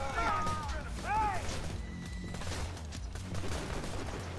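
Gunfire in Borderlands 2: bursts of game shots and impacts under a dense mix of music and effects, with a few sharp whistling tones early on and voices talking over the action.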